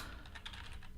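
Quick, light keystrokes tap on a computer keyboard in a fast, uneven run of clicks, close by and fairly quiet, with no talking.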